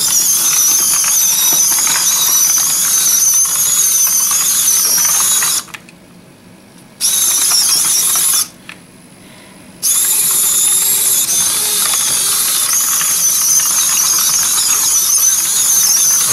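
Johnny 5 robot RC toy rolling on its rubber tracks over a grippy rubber mat gives a steady high whirring, ratcheting gear whine, cutting out twice briefly before resuming, with no talk.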